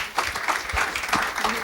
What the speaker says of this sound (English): So please welcome her with a clap.